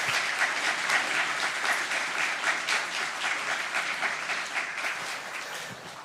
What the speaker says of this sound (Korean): 또 이렇게 먼저 앞서가신 우리 정 교수님께 뜨거운 박수하고 마치겠습니다